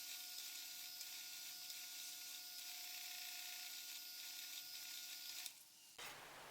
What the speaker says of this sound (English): I can now start drilling all the holes